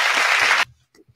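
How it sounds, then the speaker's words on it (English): An audience claps in a loud, dense burst of applause that stops abruptly after about half a second, followed by brief quiet and a short voice. "Can we get a clap for her"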